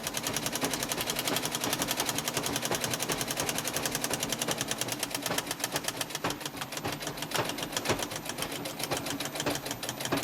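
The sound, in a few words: sewing machine zigzag stitching a patch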